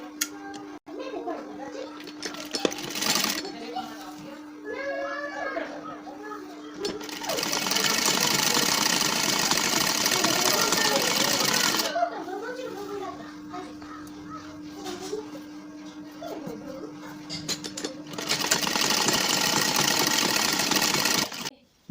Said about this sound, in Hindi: और इस तरह से हम इसमें सिलाई मार देते हैं।